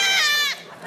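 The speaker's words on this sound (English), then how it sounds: "because it's a giraffe, I put a goat scream." A goat scream used as a sound effect for a giraffe in a video game: one loud, shrill bleat held for about half a second, then breaking off into quieter noise.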